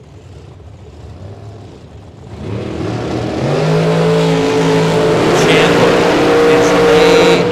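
A wing dragster at a bracket drag race launches, with a low rumble swelling into a loud, sustained engine roar that stays strong to the end, under an announcer's voice.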